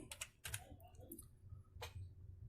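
Keys clattering on a computer keyboard as values are entered into a Python program on a Windows PC, a few quick clustered taps then a pause and another burst, close and fairly quiet.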